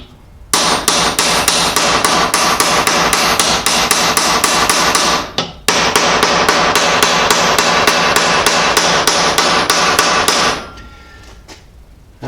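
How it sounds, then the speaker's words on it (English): Ball peen hammer peening a rivet on a Gravely sickle bar cutter section, a fast, loud, even train of metallic blows that pauses once briefly, resumes, then stops. "I'll round it out a little bit with the ball peen on this hammer"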